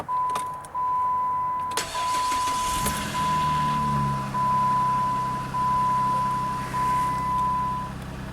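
A 2008 Jeep Grand Cherokee with the 3.7 engine cold starts on a morning in the 30s, a brief crank then catching into a loud, close idle that hums steadily with a faint continuous whine and slight rhythmic swells.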